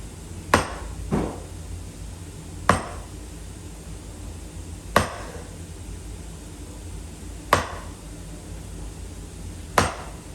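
A chisel chops into timber while a carpentry joint is cut. Five or six sharp, separate strikes land a couple of seconds apart against a quiet background.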